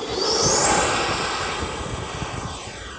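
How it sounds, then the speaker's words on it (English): A Freewing MiG-29 RC model jet with flaps and gear roars past during a touch and go, a loud continuous whine with a rising then falling pitch as it passes close and fades slightly. "It's a really nice touch and go."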